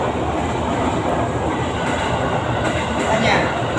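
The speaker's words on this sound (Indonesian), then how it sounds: "Bila ada suara kereta api, nah ini kereta api" A train rumbles past near a railway station beside a main road. The roar is loud, continuous and close, with a faint high squeal late in the passage.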